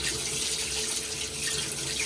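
Water runs steadily from a hotel bathroom tap, a close, continuous broadband rush with no voices over it.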